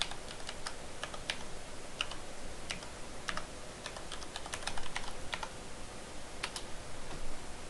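Steady typing on a computer keyboard while entering a backup password, with quick irregular key clicks close by and fairly even in loudness throughout.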